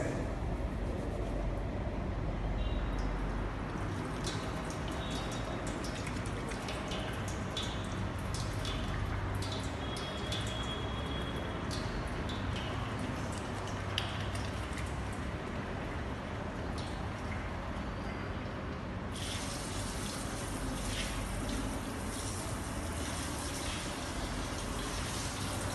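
Tap water runs steadily for handwashing at a campus hygiene station, a continuous close splashing flow that carries on without a break, with no voices.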